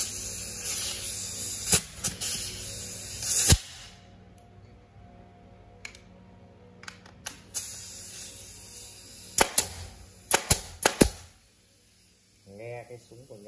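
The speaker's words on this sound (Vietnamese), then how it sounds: "Số 7 là con súng đinh U của Nhật nhá." A Japanese pneumatic U-nail staple gun loaded with U10 staples fires several sharp, hissing pops, some close together and others spaced apart, over a low steady background with faint talk nearby.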